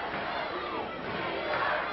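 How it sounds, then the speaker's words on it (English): A large wrestling arena crowd roars and chants together during a Billy Jack Haynes versus Kendo Nagasaki bout, a dense, steady wash of voices with no clear individual speech. "The crowd chanting, "We want Billy.""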